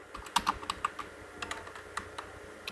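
Python code being typed on a computer keyboard: a quick, faint run of light keystroke clicks at an uneven pace, alone with no talk.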